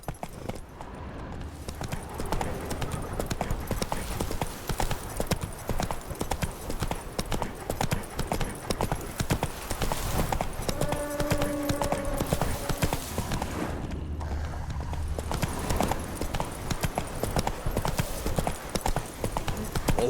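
Roach the horse's hooves clip-clop steadily along in The Witcher 3: Blood and Wine, a fairly close, continuous trotting rhythm over game ambience, with a short musical or voiced tone partway through.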